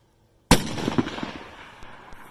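A single sharp, loud rifle shot cracks out during an Oregon blacktail deer hunt, followed by a rolling outdoor echo and faint rumbling tail that fades over the next two seconds.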